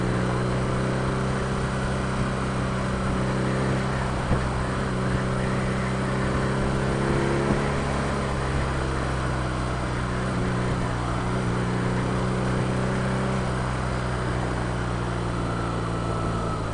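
A 2016 BMW R nineT motorcycle rides along a highway, its engine droning steadily at low revs with strong harmonic tones, under continuous wind rush for the whole stretch.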